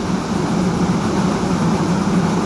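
A train rolls over a railway bridge near Karangpucung station, a dense, steady rumble of wheels and carriage noise heard from on board, loud and unbroken throughout.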